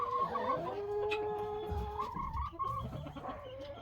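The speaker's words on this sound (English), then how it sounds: "We got about 35 chickens, big ones for the big coop out here." Big chickens in a large backyard coop holding about 35 birds cluck and call in overlapping, wavering tones, fairly close and steady throughout with no talking.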